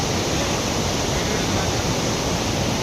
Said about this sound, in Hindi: और पीछे ये लोध वाटरफॉल।